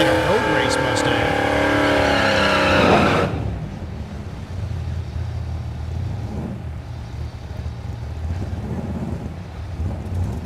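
A road-race-style Mustang roars loudly past at the Thunder Valley drag strip in Noble, Oklahoma, its engine note rising and then cutting off after a few seconds, leaving wind rumble and faint distant engine noise.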